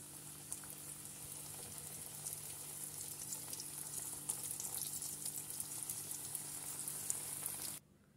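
Börek pastries fry in hot oil with a steady, close sizzle and fine popping crackle that runs without pause, then cuts off abruptly near the end.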